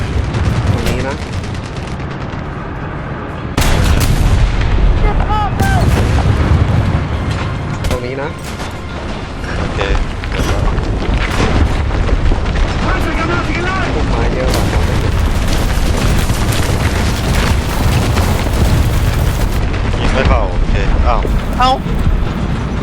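Repeated heavy bomb explosions and bursts of gunfire in a chaotic War Thunder battle, loud and continuous, with excited talking over the top.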